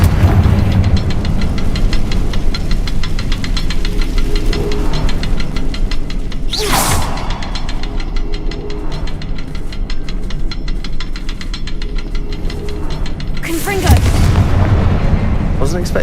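Confringo blasting spell explosions in the Hogwarts Legacy video game, with two sharp booming blasts over a steady loud game background rumble.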